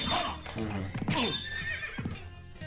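A horse neighs loudly in Castlevania: Symphony of the Night, giving two or three shrill, wavering whinnies in quick succession, close and prominent.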